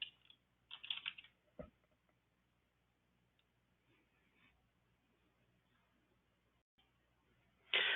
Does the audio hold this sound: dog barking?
no